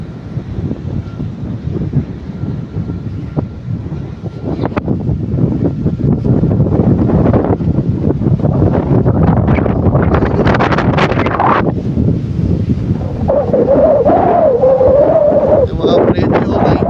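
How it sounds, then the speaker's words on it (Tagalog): Strong wind buffets the microphone near a scenic spot on a Baguio to Pagudpud road trip, a loud continuous roar that swells heavier after the first few seconds, with a voice talking faintly beneath it. "Ang lakas po ng hangin dito mga friendly."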